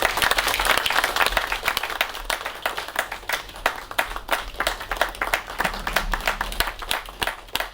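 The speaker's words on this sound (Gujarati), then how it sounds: "આપણે સૌ તાળીથી વધાવી લઈએ" An audience at a water-conservation award ceremony in Kutch claps as an honoree is welcomed, a dense burst of applause that thins into scattered, uneven claps before picking up again, with no speech.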